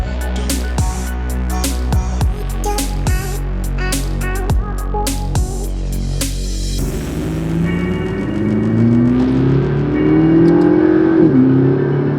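Powerful McLaren MP4-12C sports car engine revs and accelerates close by on a road with sharp clicks early on, then rising and falling gear-shift tones as it pulls away.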